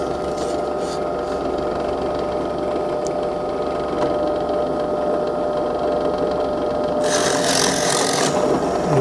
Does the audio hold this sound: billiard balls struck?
no